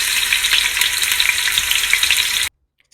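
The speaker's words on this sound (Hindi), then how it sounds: "मैंने तेल गरम कर लिया है। अभी तेल में मैं प्याज डाल देती हूँ।" Onions fry loudly in hot oil in a pan, a dense close crackling sizzle that runs steadily and then cuts off abruptly into silence, no voices.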